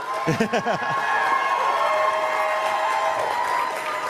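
Seminar audience applauding together, starting with a brief burst of voices and whoops, then a steady, fairly loud wash of clapping that holds for several seconds.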